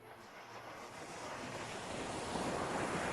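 Sea waves wash continuously against the shore amid blowing wind, a steady broadband roar that swells slightly louder toward the end, with no voices present.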